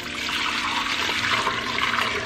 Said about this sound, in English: Now we're going to take our liquid and return it back into the pot.